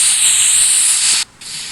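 Loud, bright hissing roar of fire rain falling in a Minecraft-style lucky block world game, steady like spraying or sizzling fire, briefly cutting out near the end before resuming more quietly.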